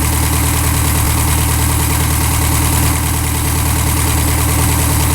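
An air-cooled VW engine fitted to a Sonex aircraft runs loud and close in a steady, throbbing drone with constant rhythmic pulsing and no pause.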